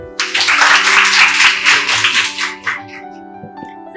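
Students in a classroom clap for their teacher, a dense burst of applause that fades after about two and a half seconds into a few scattered claps over a steady hum.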